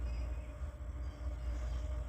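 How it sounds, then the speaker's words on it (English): A locomotive's roof-mounted dynamic brake cooling fan on a manifest freight train roars as a steady, dense whir with a low rumble, continuous and close, without any voices. "You can hear the fan on the roof that blows the heat off the coils."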